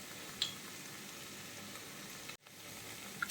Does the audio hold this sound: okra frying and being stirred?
yes